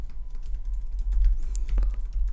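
Fingers type on a computer keyboard during Photoshop exam practice: quick, close plastic key clicks in an uneven run over a low background hum, with no talking.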